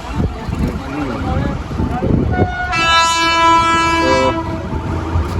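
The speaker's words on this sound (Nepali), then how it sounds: "ट्रेन आइसकेको छ" An Indian train arriving at a bridge rumbles steadily, then sounds a loud, sustained horn for over a second. Voices talk over the rumble before the horn.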